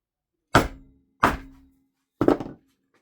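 Three sharp staple-gun thunks, evenly spaced then a longer gap before the third, tacking a homemade micarta press together in a workshop; each strike rings briefly with a low hum, with no talk.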